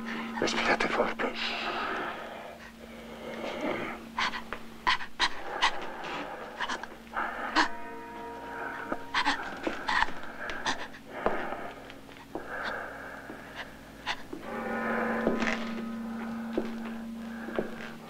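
A person breathing hard in an Italian period film, with repeated heavy, raspy panting breaths that come in uneven bursts for several seconds, close and fairly faint.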